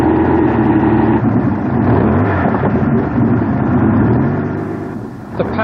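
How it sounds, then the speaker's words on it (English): A custom Thunderbolt car built on a vintage Bentley chassis under an aluminium body, powered by a 27-litre Rolls-Royce Merlin aero engine, rumbles loudly and steadily at close range, with a deep, continuous engine roar that eases near the end. "The power comes from a 27-litre Rolls-Royce Merlin engine, the type normally used to power Spitfires."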